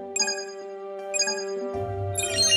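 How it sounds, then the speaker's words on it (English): Alarm on an Emo personal robot, a bright melodic ringtone of repeating chime phrases, clear and close, followed by a brief low rumbling noise near the end. "You can set an alarm."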